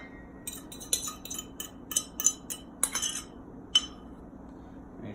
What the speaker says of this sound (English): you're gonna mix with a fork, kind of get it all combined and everything